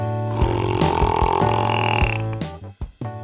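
A Burping Bobby toy from a children's burping game lets out a loud, long, rumbling burp with a croaky tone. The burp fills most of the clip and then breaks into a few shorter gurgling bursts near the end.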